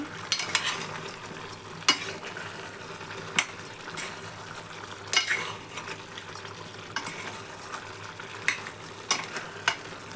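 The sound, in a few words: stirring frying chicken curry with garam masala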